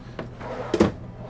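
A soft-close drawer in the kitchen of a 2021 Newmar New Aire 3543 motorhome glides shut, a few faint slides and then a muffled, cushioned thump close by.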